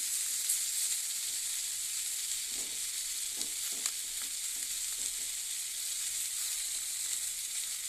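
Salted, turmeric-coated mola fish laid into a hot pan, a steady steamy sizzle and hiss with a few soft stirring knocks in the middle, close and moderately quiet, with no talking.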